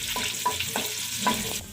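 Sliced garlic frying in a pan until browned, a steady close sizzle with a few light stirring scrapes and clinks.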